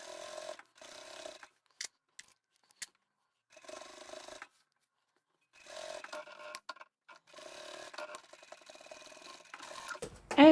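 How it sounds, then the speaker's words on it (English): A sewing machine back stitches a seam on a boxy cushion cover, with short bursts of close, rapid needle clatter separated by quiet pauses. "back to the machine. So I'll back stitch here"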